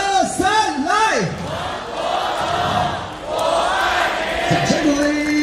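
A loud baseball crowd cheers Chinese Taipei at the World Baseball Classic, chanting for Wang Po-jung. An amplified leading voice swoops and calls, and the massed crowd answers in a roaring chant.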